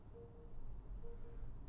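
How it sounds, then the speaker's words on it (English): Geely EX5 2025 electric car's pedestrian warning sound: a faint, steady low tone pulsing twice, each about half a second, over a loud rumbling background of road and cabin noise, no talk. "you can also hear the pedestrian warning sound."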